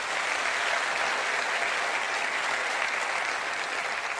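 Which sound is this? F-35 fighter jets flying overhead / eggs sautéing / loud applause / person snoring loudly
loud applause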